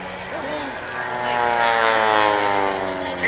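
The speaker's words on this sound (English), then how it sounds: "And listen to that engine." An aerobatic biplane with a Lycoming O-360 A4 engine passes at an airshow, its propeller drone loud and swelling as it nears, with a voice speaking over it.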